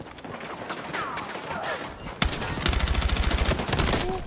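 Rapid automatic gunfire crackles in Battlefield 6, a few scattered shots first, then a sustained close burst of fast repeating rounds, loud and continuous.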